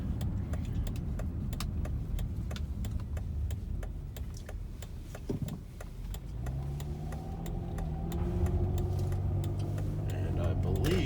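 A car rolls slowly toward a remote salvage yard, its steady low engine and road rumble close and even, with light ticking and rattling, then a rising tonal engine hum as it slows near the end.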